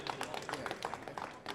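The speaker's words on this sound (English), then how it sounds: "So can we give everyone another round of applause?" A conference audience at a resilience session gives a round of applause, brisk scattered clapping from many hands that fills the room, with a voice faintly mixed in underneath.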